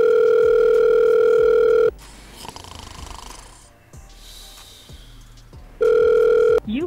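A telephone ringback tone sounds in two long steady beeps separated by a pause of quiet background noise, loud and close.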